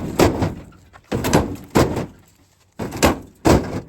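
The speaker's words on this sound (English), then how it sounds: "How many slams can the tailgate take?" A truck tailgate is slammed again and again: five loud, heavy metallic bangs spaced roughly half a second to a second apart, each with a rattling decay, close by and alone.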